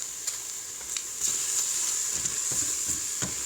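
A mushroom and peas curry, freshly seasoned with garam masala and coriander powder, sizzles in an Instant Pot while a spoon stirs it, giving a steady close frying hiss broken by several soft scraping strokes.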